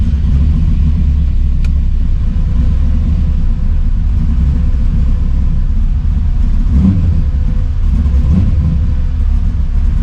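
An LSX V8-swapped Infiniti G35 accelerates on the road, a loud, deep, continuous engine rumble that swells as it revs, heard from inside the car with no talk.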